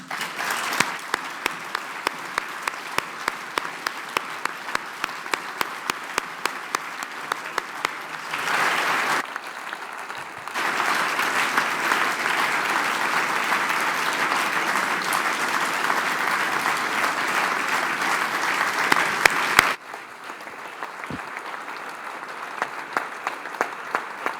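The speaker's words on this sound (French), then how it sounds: "Sous vos applaudissements." Sustained audience applause at a formal academic opening ceremony, steady and full through most of the stretch, easing to scattered claps near the end, with no talk over it.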